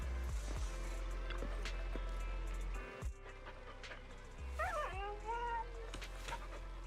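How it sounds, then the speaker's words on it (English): A dog in the video game Zenless Zone Zero, giving a few short whimpering yips and whines over steady game music, with a person talking at times. "Oh, a dog."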